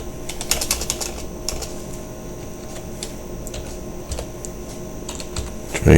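Typing on a computer keyboard during 3D modelling work, a close run of quick uneven key clicks with short pauses, no speech over it.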